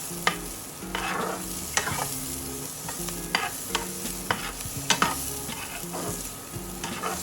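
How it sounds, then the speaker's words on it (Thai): Sausage stir-fried in a pan with softened onions while making Korean rosé ramyeon. Rhythmic scraping spatula strokes, roughly one or two per second, sound over a continuous close sizzle, with no voices. "จากนั้นก็ใส่ไส้กรอกลงไปผัดด้วยได้เลยค่ะ"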